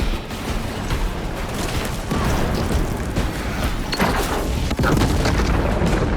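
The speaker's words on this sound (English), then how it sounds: "Charge detonated. Tyranids destroyed." Melter charge detonating on Tyranid burrows in the video game Warhammer 40K: Space Marine 2, a dense, sustained roar of booming blasts and rumbling debris that stays loud throughout with sharper cracks near the end.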